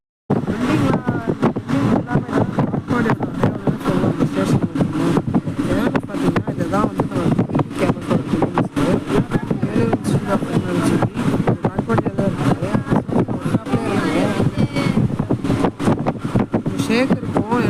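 Strong wind roars steadily and loudly through an open train compartment on a Salem to Chennai journey, with continuous buffeting and rattling and a voice talking over it.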